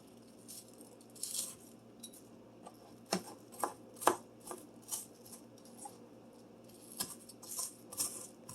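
Knife chopping a falling-apart onion on a cutting board, irregular sharp taps near the mic, some in quick clusters, fairly quiet with no talking.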